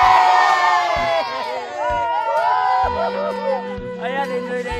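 A crowd of children shouting and cheering loudly at a bamboo-breaking challenge game, overlapping high voices sustained throughout, close and energetic, with occasional low knocks beneath.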